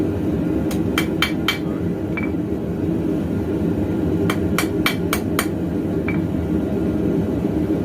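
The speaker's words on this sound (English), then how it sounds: "just planishing and smoothing things out" A hammer planishes a forged clip point knife tang on an anvil: two bright, ringing groups of four quick metallic strikes, each followed by a single lighter tap, over a loud steady roar of forge or blower noise.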